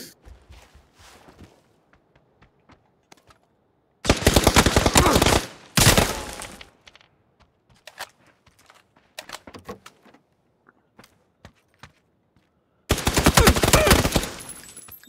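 Automatic gunfire in PUBG breaks out in two sharp, loud bursts, the first roughly two seconds long, then a second after a long near-silent stretch broken only by faint scattered clicks and ticks.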